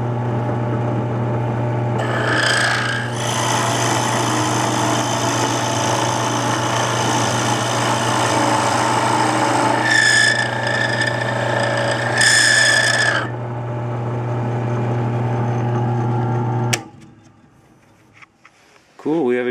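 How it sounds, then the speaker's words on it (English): A steady drill press motor hum with whirring and grinding as the bit bites into wood for several seconds, then winds down and stops near the end. "Drill press in the shop now."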